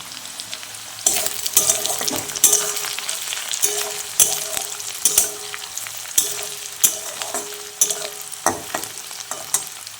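Onion and garlic fry in a pan for restaurant-style egg tadka, a close sizzle broken by repeated sharp scraping stirs of a spatula at an irregular rhythm.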